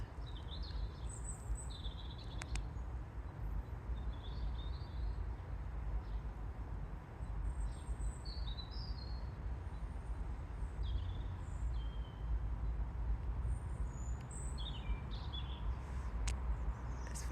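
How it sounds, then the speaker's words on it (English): Small birds chirp and twitter in bare trees on a cold, clear winter day, the short high calls scattered and fairly distant over a steady low outdoor rumble. "Thought you might want to hear the birds."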